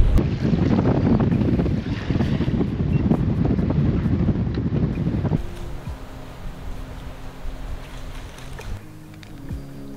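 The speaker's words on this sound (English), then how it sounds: "It's very, very windy." Strong wind buffets the microphone on open water during a fishing trip, a loud steady roar that drops to a quieter wash of water and boat noise partway through.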